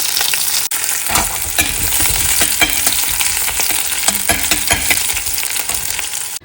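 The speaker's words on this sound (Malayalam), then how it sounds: "ഉള്ളി അരിഞ്ഞിട്ട് കൊടുക്കാം. ഉള്ളി മൂക്കട്ടെ." Chopped onions frying in hot oil with broken dried red chillies and curry leaves for a Kerala colocasia curry, a steady close sizzle with occasional stirring clinks, no talking.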